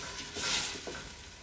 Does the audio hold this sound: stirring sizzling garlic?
yes